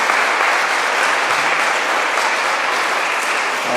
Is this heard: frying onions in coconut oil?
no